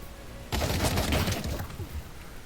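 Shotgun gunfire in the VR shooter Pavlov VR on Quest 2: a sudden loud burst of close-range blasts lasting about a second, then fading reverberant noise.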